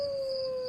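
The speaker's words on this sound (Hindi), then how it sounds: "बाहर कुत्ते रो रहे थे" Dogs outside at night let out a single long, steady howl, a sustained mournful tone lasting under a second, with no voices.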